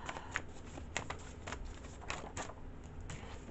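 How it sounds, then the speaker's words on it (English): A deck of playing cards being shuffled up close, with repeated quick riffles and soft flicks in a steady rhythm, fairly quiet and without talking. "I was grabbing another deck of cards"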